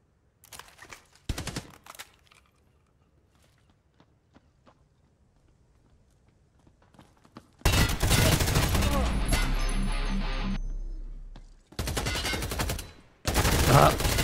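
Bursts of rapid gunfire in a free tactical first-person shooter game, loud and sustained, broken by short pauses, following a quieter stretch of faint footsteps and small clicks.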